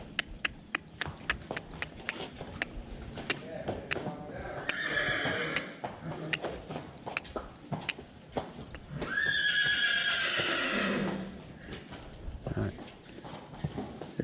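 Horse during groundwork training, hooves clip-clopping in an uneven walking rhythm throughout, with two loud whinnies rising over the steps midway, while a person talks intermittently.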